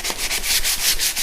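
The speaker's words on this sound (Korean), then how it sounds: "이런 데도 사포질 좀 해서" Sandpaper rubbed by hand over a door or trim edge during interior apartment painting prep after puttying, loud close rasping strokes in a quick back-and-forth rhythm, no talking.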